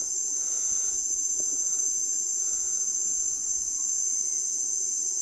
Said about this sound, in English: Except for this cricket sound.